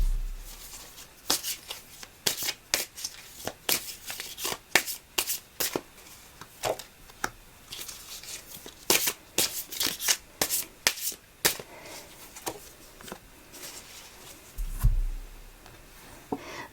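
Tarot cards are shuffled by hand for a reading, with repeated crisp riffling bursts and slaps coming in quick, irregular clusters close up, alone without talk.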